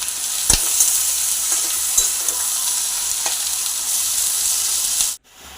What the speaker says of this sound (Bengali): এবার ভালো করে মশলাটা আমি কষিয়ে নেব।